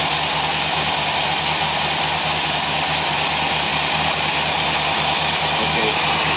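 A car engine fitted with a Holley race carburetor runs loud and steady, a continuous close roar with a constant hiss and no pauses or talk.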